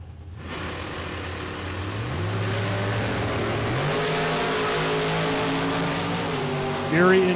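Drag race cars, an Oldsmobile and an S10, roar down the strip in a sustained loud engine blast that climbs through gear changes, heard from trackside with a faint announcer's voice underneath.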